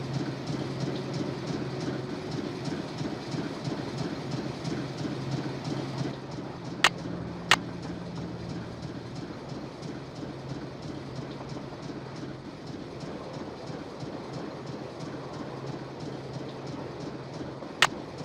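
A moving train in the Nancy Drew Last Train to Blue Moon Canyon video game rumbles and clatters steadily, with a few sharp metallic clicks standing out near the middle and again at the end.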